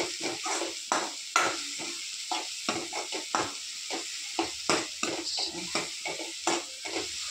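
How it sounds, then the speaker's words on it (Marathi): Chopped onion fries in hot oil for a dal tadka, a steady sizzle broken by repeated scraping stirs of a spoon against the pan in an uneven rhythm, close and fairly loud, with no talking. "कांदा फ्राय करते मी."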